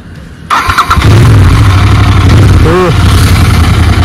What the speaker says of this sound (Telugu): ఇప్పుడు చాలా రోజుల తర్వాత బైక్ అయితే స్టార్ట్ చేద్దాం